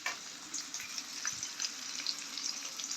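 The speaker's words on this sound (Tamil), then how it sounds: "பொரிச্சு போடாது எண்ணெய் வந்து நல்லா சூடாயிடுச்சு. சொன்னால் முட்டை கறிக்கு வந்து நிறைய வெங்காயம் போட்டால் நல்ல டேஸ்ட்டாக இருக்கும். வெங்காயம் வந்து போட்டாச்சுது." Onions fry in hot oil for an egg curry, a soft, continuous sizzle with faint crackles and light pops, fairly quiet and nearby, with no speech.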